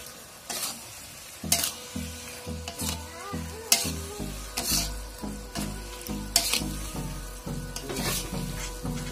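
Eel frying with sliced tomato is stirred in a hot pan, a steady sizzle broken by regular scraping strokes of the spatula, close and fairly loud with no talking.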